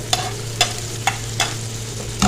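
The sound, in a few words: finely chopped onion added to hot oil, sizzling while stirred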